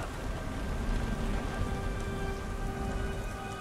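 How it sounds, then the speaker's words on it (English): Heavy rain in the video game Beyond: Two Souls pours down in a dense, steady hiss of drops hitting surfaces, with a faint rumble of thunder underneath and no voices. "God damn rain. Don't look like it's ever gonna let up."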